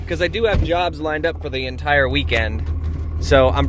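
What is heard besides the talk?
No everyday noises stand out.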